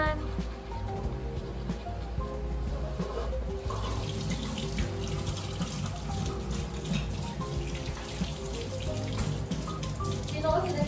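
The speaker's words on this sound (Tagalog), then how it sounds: "Sino kasi nagsabing magsabay-sabay mag-toothbrush?" Bathroom tap running steadily into a sink while several people brush their teeth together, a constant splashing hiss with people talking over it.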